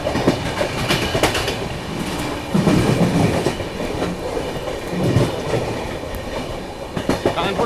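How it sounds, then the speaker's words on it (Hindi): The Ranchi Rajdhani express arrives, heard from aboard the moving 12259 Sealdah Duronto. Loud, continuous rail rumble and rhythmic clickety-clack of wheels over joints are joined by bursts of metallic rattle, with no talking. "यहाँ पे हमारे निकलते निकलते रांची राजधानी का अराइवल हो रहा है।"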